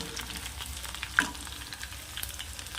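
Onions and curry leaves fry in oil over moderate heat for a Vidarbha-style pumpkin sabzi, giving a steady soft sizzle with one brief clink near the middle and no talk.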